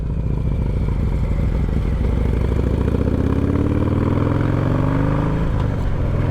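Harley-Davidson motorcycle fitted with MX bars and risers riding through a roundabout, its engine a steady loud rumbling drone that rises gradually in pitch as it accelerates, heard alone and close.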